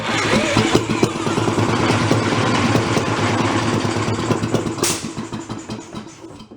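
An antique marine engine left sitting 35 years runs loud and close with a rough, uneven chug, then slows and sputters toward the end.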